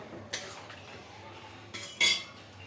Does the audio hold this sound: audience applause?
no